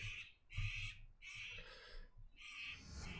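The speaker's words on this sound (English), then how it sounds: "this bird's outside." Crows cawing outside, several harsh repeated calls in uneven bursts, fairly faint with no talk over them.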